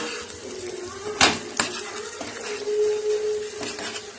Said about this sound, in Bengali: এটা পুরো ভিজিয়ে করবো তো ওই জন্য একদম নেড়ে দিচ্ছি